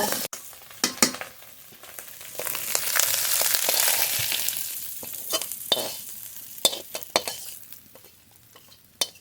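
Oil sizzles and crackles steadily in a hot pan, with scraping stirs and sharp metallic clinks of a spatula against the wok throughout.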